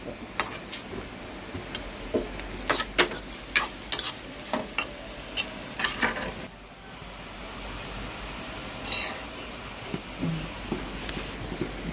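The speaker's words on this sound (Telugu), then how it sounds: "పసుపు వేసుకొని తిప్పుకోండి" Turmeric-coated curry being stirred in a pan, with irregular scraping and clacking strokes over a soft steady sizzle, busy at first and then easing into a quieter, more even simmer.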